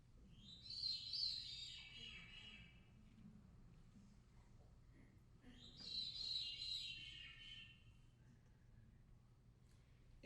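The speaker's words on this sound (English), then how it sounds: "Veeries produce 2 notes at the same time in their song, effectively singing a duet with themselves" Veery song, two simultaneous metallic-sounding notes, heard as two airy, swirling phrases a few seconds apart, each rising then fading, faint over a quiet low hum with no voices.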